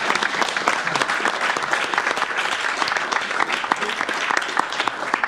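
Applause from the audience at a city council meeting, a steady wash of many hands clapping that stays loud and close for the full length.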